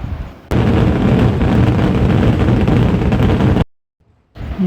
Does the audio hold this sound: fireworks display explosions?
yes